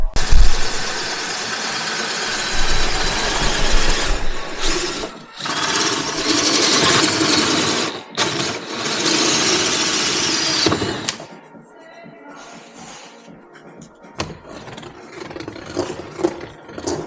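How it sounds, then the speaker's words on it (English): A power drill drilling holes in a campervan build whines loudly in sustained runs with brief pauses. It then stops, leaving quieter handling noises. "so we've drilled the holes"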